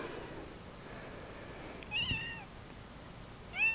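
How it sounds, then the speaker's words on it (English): A pet cat meows twice indoors, short rising-falling cries separated by a pause, fairly faint over a low background hiss. "that would be my cat"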